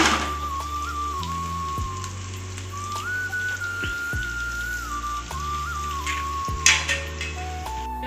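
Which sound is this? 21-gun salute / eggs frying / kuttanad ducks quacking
eggs frying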